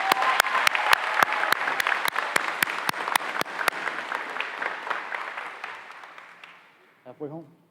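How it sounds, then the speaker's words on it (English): Graduation audience applause at Cooper Academy, opening with sharp, rhythmic close claps over a broad crowd patter that gradually fades out, followed by a brief voice at the end. "so let's give her a round of applause."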